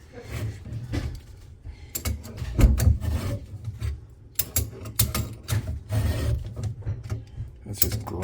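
A tool grinds gunk out of a part with harsh, scraping, ratcheting bursts that come and go, loud and close, with no voices.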